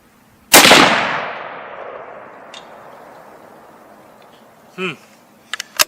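A single loud, close rifle shot from a Weatherby Vanguard at an outdoor range, with a long rolling echo decaying over a couple of seconds, followed by a brief voice and a few small clicks.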